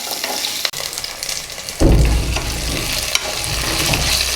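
Onions sauté in hot oil in a pan with a steady sizzle that swells as the stirring goes on. Spatula scrapes come and go, and no one speaks.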